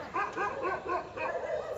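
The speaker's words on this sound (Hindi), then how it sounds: "जबरदस्ती भौंक रहे हो यार इस पे" Three dogs barking and yipping at a cow, a close run of repeated yelping barks with a steady rhythm and no clear talk over them.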